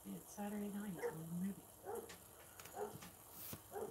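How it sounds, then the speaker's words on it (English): A dog indoors gives short whimpers and yips in several brief bursts, fairly close and moderately loud, with faint background voices around it. "you guys are going to have to listen to my dog for a minute"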